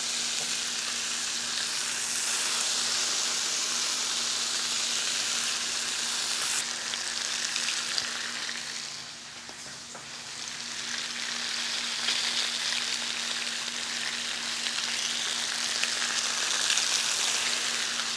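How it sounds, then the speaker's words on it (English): Thick-cut bacon crackles and sizzles loudly and continuously on a Blackstone griddle set to high, easing briefly midway before the sizzle builds again; no voices. "All right, so let's get this bacon going and we're off."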